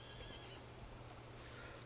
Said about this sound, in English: Then you got your mount, your little horse.